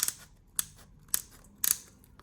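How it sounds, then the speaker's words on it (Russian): Scissors snip off a piece in a close, quiet setting: four crisp, sharp cuts spaced roughly half a second apart, the last one doubled, with no talking. "Я беру ножницы и прямо вот так, или щипчиками, или ножницами"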